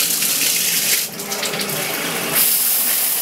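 Running water gushes from a tap in a 22nd-floor apartment, a loud steady hiss that briefly dips and surges as the flow changes, heard close and alone.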